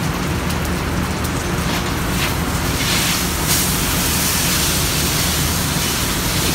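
Steak sears in a hot pan in a ranch kitchen, a dense, steady sizzle that hisses evenly throughout at moderate loudness.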